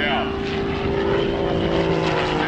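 Aerobatic propeller airplane at an airshow pulling positive G's, a steady droning engine and propeller buzz held at a constant loud level with a narrator's voice over it.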